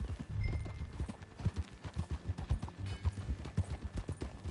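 Horse hooves clip-clop in a steady trotting rhythm while riding in Red Dead Redemption 2, close and fairly loud, with low thuds and occasional tack jingles throughout.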